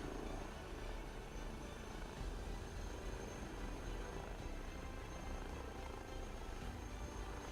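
A Huey helicopter in Microsoft Flight Simulator 2024 gives off a faint, steady rotor and engine drone, an even broadband whir with no pauses or voices.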